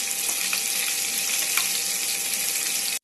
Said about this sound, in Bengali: এখানে চলছে মাছ ভাজা।